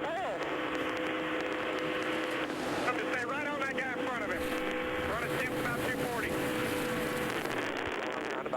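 NASCAR Nationwide stock cars racing in the draft at Talladega, layered engine roars with rising and falling pitch sweeps as cars pass, a continuous loud pack sound with a commentator talking over it.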